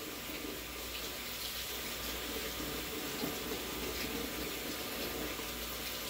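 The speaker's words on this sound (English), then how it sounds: "Turn your water on" Tap water running into a sink, a steady hissing splash that stays even and continuous for several seconds at moderate distance, with no one speaking.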